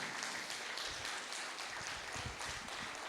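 Congregation applauding during a Sunday morning church service, a steady dense wash of clapping that continues evenly throughout without speech over it.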